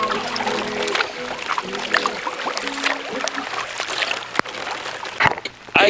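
A sea kayak paddled in fog off Vancouver Island, with soft splashes and water trickling around the hull, close and fairly quiet, with irregular drips and a few sharper paddle strokes near the end.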